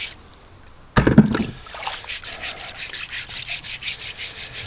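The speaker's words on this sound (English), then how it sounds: "I didn't show you what it's like to wash carrots" Carrots being washed by hand for blanching and freezing, a steady series of wet rubbing scrubs after a sharp thump, rhythmic and close with no talking.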